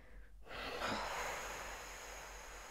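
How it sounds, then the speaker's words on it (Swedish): Slow, deep breathing exercise: a quiet pause, then a long, steady breath of air rushing in and out, close and soft, with no talking. "Jag andas in."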